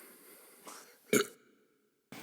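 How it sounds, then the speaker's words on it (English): A single short burp erupts in a quiet indoor setting, a brief throaty burst standing out against faint background sound, followed by near silence. "there's a burp coming in"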